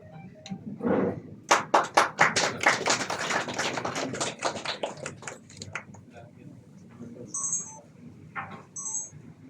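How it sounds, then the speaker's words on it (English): Scattered clapping from an audience at a hospital event, loose and uneven, building to a short burst of claps before thinning into sporadic taps, with faint chirpy background noise. "Give a big round of applause."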